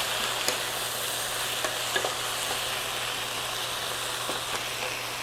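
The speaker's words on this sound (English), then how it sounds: "Those are frying up really good." Pork chops fry in a pan seasoned with pepper and garlic powder, giving a steady, close sizzle with faint crackles and a few light pops, no talking.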